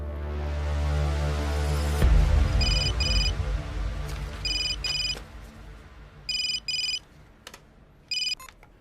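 A private telephone rings in short electronic bursts, paired double chirps repeating at intervals after a heavy low thump, with a dull background hum and no voices.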